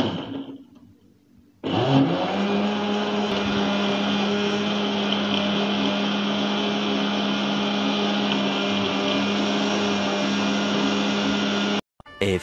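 A blender mixes a home-made chocolate milkshake with ice cream, kicking on after a brief quiet moment into a loud, steady, close whir that runs about ten seconds before cutting off.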